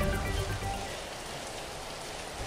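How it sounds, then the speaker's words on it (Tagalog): Steady, nonstop rain pours over Laurel, Batangas during flooding near the Bugaan Spillway, a dense continuous hiss of drops on surfaces with low rumble, constant and close throughout. "walang tigil na pag-ulan"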